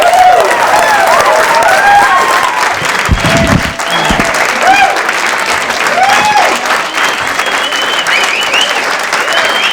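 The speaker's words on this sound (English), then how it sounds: "Please, a nice round of applause." Sustained audience applause for comedian Tom Gilmore at a 1986 stand-up show, loud and steady for nearly ten seconds, with cheers and voices mixed into the clapping and a brief dip midway.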